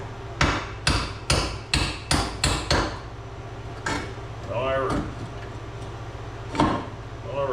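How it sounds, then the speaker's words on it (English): Sledgehammer blows on a bolt in the suspension of a 1999 Mazda Miata: about eight sharp metallic strikes in quick rhythm, then a few scattered hits and clanks, close and loud over a steady low hum. "As I commenced to hitting it with a sledgehammer."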